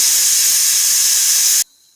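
A pressure cooker on a gas stove lets out a loud, sharp steam whistle, a steady high hiss lasting about a second and a half before cutting off abruptly into near silence.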